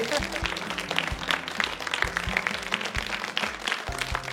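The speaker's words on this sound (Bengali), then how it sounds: "সবাই মিলে একটা জোরে হাততালি দেই।" An audience at a children's magic show claps in a dense, continuous burst of applause, with music and a low tonal backing underneath.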